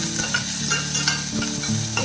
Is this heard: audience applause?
no